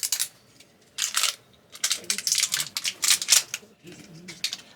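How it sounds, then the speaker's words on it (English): Cinnamon being unwrapped in a narrowboat kitchen, bursts of crisp crinkling and tearing of packaging in short separate rustles, close and fairly loud, with no voices. "first I've got to unwrap the cinnamon"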